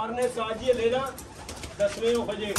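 Pigeons cooing in soft, repeated low murmurs, fairly close, with brief flutters and background voices of people talking nearby.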